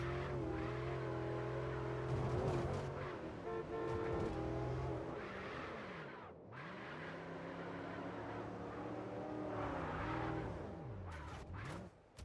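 Car engine in the video game MindsEye, droning steadily with rising and falling revs throughout, sounding close and fairly loud with a few horn-like tones mixed in.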